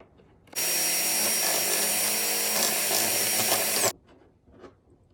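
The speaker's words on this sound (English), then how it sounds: "what I'm going to be doing is routering it out" A router cutting a headlight hole whines loudly at full speed for about three seconds, starting and stopping abruptly, then quiet rustling follows.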